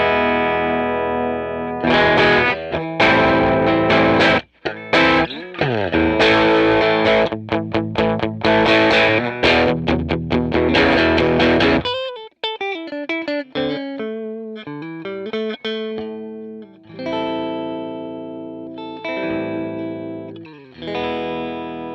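Electric guitar played through a 1964 Gibson GA-15 RVT Explorer amp with its volume turned down: dense distorted chords and fast strummed bursts, then sparser picked single notes and held chords, loud and close with no talking.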